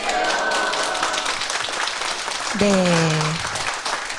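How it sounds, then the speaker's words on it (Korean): An audience applauds to welcome a guest poet onto a literary talk-show stage. The broad clapping runs steadily through the moment while a host speaks over it briefly. "여러분, 박수로 맞이해 주실 텐데"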